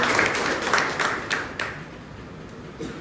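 Audience clapping at a ceremony honouring meritorious tenth-grade students, a dense burst of applause that is loud at first and gradually thins and fades over a few seconds.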